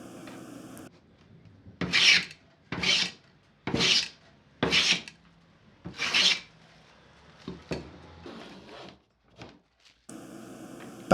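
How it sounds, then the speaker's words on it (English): Traditional hand plane smoothing thin wood strips, five or six loud rasping strokes in a regular rhythm, close by, separated by short pauses, followed by a few softer scrapes and handling knocks. "After ripping the extra pieces, I'm just planing it down so that it will be nice and smooth and an even thickness."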